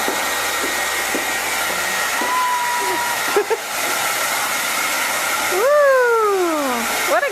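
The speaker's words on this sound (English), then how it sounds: "You want the blow dryer?" A hair dryer blows with a steady whooshing hum, joined briefly by a child's high squeals and a soft voice near the end.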